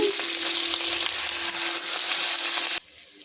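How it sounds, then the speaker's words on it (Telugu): Stuffed ridge gourds cook in oil with a loud, dense sizzle and crackle close by, under a faint steady hum, then cutting off abruptly to near quiet. "బీరకాయలు అయితే మగ్గుతున్నాయండి"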